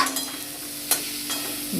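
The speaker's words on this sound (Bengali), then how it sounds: "ধনেপাতা দিয়ে আবারও নাড়ব" A spoon stirs radish curry with fresh coriander leaves in a hot pan, giving a couple of sharp scraping strokes over a soft continuous sizzle, close and clear with no talking.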